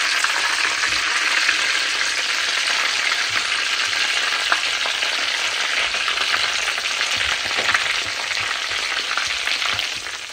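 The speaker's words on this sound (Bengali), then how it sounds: "এখানে ভাজা ভাজি তো চলছে" Chicken sticks frying in a pan give off a loud, steady hiss and sizzle throughout, with occasional sharper pops and crackles and no talking.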